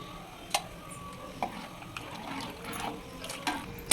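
A pot of salla charu simmers gently, giving a quiet bubbling wash with a few soft pops and light clinks spaced through it.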